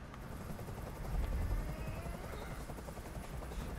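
Steady low rotor drone of a helicopter hovering in the video game Detroit: Become Human, a continuous dull rumble that holds at a moderate level with a brief swell.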